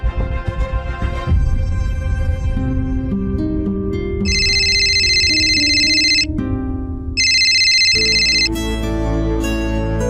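A phone ringtone plays loudly, a repeating electronic melody with two bright beeping bursts, alone with no voices.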